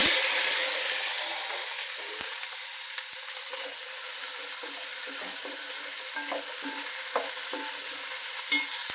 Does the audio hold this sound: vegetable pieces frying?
yes